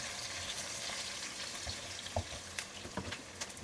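Curry leaves sizzling in hot oil in a home kitchen, a steady crackling fry with a few sharper pops and spatters near the end.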